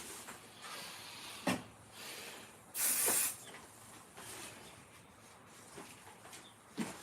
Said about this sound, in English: I'm going to spray this over my trash can.